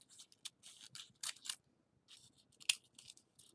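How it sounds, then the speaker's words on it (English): Scissors snip paper in short, quiet crisp cuts, following a circle around a pop-up figure, with irregular bursts of snipping and brief pauses between. "tuck our scissors underneath. All right, come on, buddy. And cut around in a circle."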